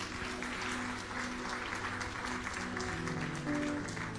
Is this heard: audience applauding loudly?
yes